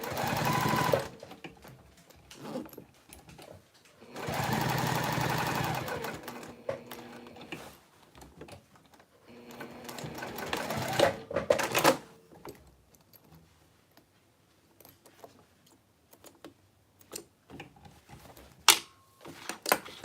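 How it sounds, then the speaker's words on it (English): A sewing machine stitches along the top edge of a bowler bag in several runs of steady whirring, then gives way to quieter clicks and handling sounds, with faint talk in between. "I'm gonna sew around the top edge here"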